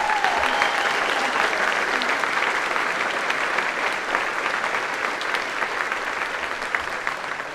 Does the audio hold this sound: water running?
no